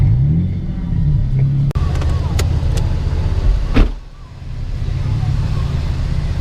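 A stock-differential drift car rolls slowly on a cool-down lap behind another car at a Nitro Circus World Tour circuit, its engine a steady low rumble with a brief sharp knock midway, close and loud throughout.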